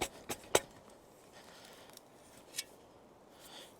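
A shovel cuts through grass sod while marking out a planting hole for blueberries: a few short, crisp crunching strikes, two close together at the start and another a couple of seconds later, over quiet outdoor background.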